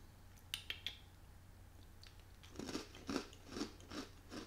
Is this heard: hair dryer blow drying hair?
no